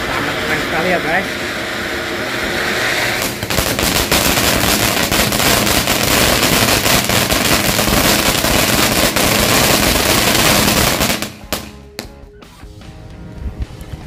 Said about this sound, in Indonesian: Mercon air mancur super jumbo.